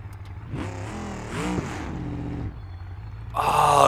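A car engine in BeamNG.Drive revs hard in rising and falling sweeps as the failing clutch slips, ending in a harsh, noisy burst.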